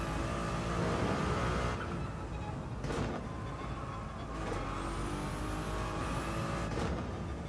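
A Ferrari 296 races in Gran Turismo 7 at the Nürburgring 24H, its engine droning steadily and loud throughout, with rising whines of revving and gear changes across the run and no talk.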